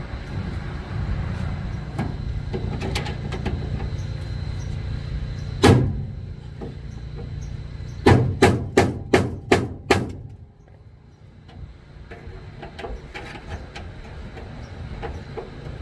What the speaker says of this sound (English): Maybe I can just pound that off.